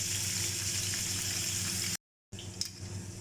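Boneless chicken sizzles steadily in hot oil for a karahi, a dense close crackle and bubble that cuts out briefly, then resumes just as busy.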